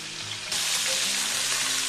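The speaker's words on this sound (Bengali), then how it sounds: "আলু আর ফুলকপিগুলো ভাজা হয়ে গেছে" Potatoes and cauliflower fry in hot oil for a Bengali cauliflower and fish curry, a quieter sizzle that jumps abruptly to a loud, steady, close crackle halfway through and holds there.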